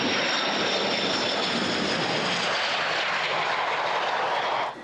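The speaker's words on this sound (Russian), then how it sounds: "В составе 6 самолетов они приземляются на аэродром «Шагол»." Jet planes of the Strizhi aerobatic team landing at Shagol airfield in Chelyabinsk make a loud, continuous engine roar that holds steady before cutting off at the end.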